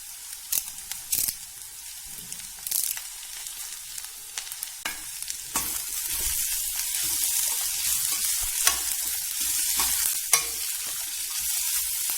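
Grated coconut and curry leaves fried in oil for a mixed chutney: sharp spatula taps and scrapes against the pan at first, then a loud, steady crackling sizzle as the leaves hit the hot oil.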